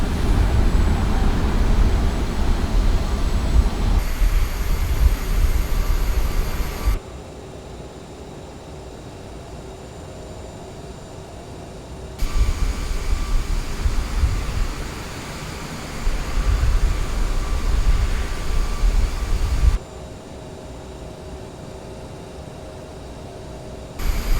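Cockpit and cabin engine noise of a CRJ regional airliner in Microsoft Flight Simulator 2024, a steady broadband jet hum that shifts level several times as the view changes, with no talk over it.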